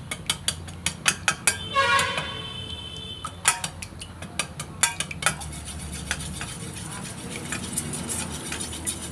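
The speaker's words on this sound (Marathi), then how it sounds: "ही अंडी पण चांगली फेटवून घेऊ।" Eggs being whisked in a bowl for an egg-dipped bread dish give quick, irregular metallic clicks and taps against the rim, louder in an early burst and steadier after, close by and alone.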